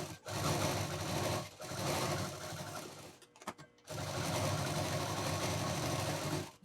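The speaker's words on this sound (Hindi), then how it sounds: "अब दूसरी साइड भी हम सिल देंगे" A sewing machine stitching along the second side of a fabric piece, a loud, close, steady mechanical whir that runs, stops briefly around the middle with a few clicks, then resumes and continues.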